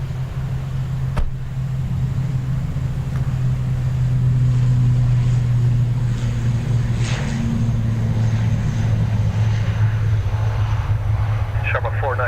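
An airplane takes off from runway 10 right at Dublin Airport: a steady low engine drone with a sustained hum that swells slightly midway, and faint voices underneath.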